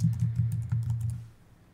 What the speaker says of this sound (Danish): I feltet navn taster du dit navn